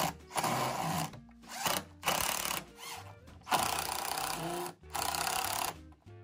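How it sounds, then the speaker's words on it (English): Power driver running screws into the legs of a wooden picnic table, several loud whirring bursts of about a second each separated by short pauses, close by with no talking. "That will allow me to get 2 more screws into the legs."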